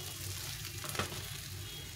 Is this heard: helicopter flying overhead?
no